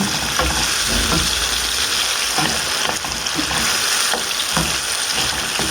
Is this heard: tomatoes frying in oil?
yes